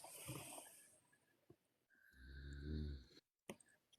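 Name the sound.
person snoring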